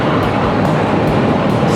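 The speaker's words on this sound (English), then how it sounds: "I think this is a stock exhaust. It doesn't sound loud, but it also doesn't sound weird." Stock exhaust of a Triumph Bonneville Bobber motorcycle while riding, a steady, fairly loud engine drone with broadband wind rush and no voices.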